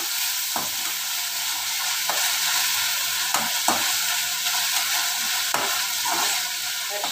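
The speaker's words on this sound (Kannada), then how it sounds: "ಇದೆಲ್ಲ ನೀಟಾಗಿ ಫ್ರೈ ಮಾಡಬೇಕು." Tomato, capsicum and curry leaves fry in a pan with a steady, loud sizzle, broken by occasional stirring scrapes, and no talking.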